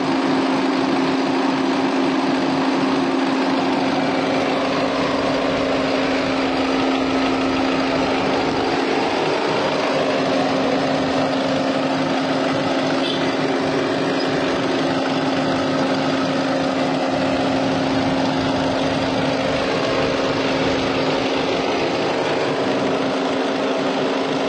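A 2011 Volkswagen Vento Highline car engine idling, giving a steady even hum with a constant low tone that runs unbroken and fairly loud throughout, with no talk.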